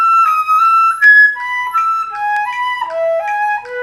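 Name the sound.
flute exercise played in eighth notes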